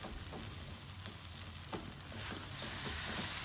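Kwetiau stir-fried at home with cooked egg, sizzling steadily in the pan with scraping stirs that grow a little louder toward the end; no one speaks.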